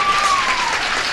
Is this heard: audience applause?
yes